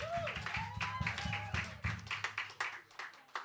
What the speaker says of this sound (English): Could I please get a big round of applause for the first few acts tonight?